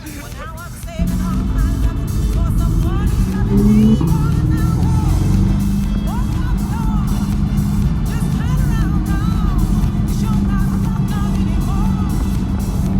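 A Chevrolet Corvette C5 driving hard through canyon roads, its engine droning loud and close after a sudden rise, with a steady exhaust note and shifting pitch through the corners.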